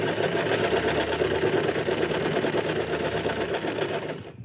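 An Usha Janome embroidery sewing machine stitching runs with a fast, continuous, close-up whirring rattle that cuts off just before the end.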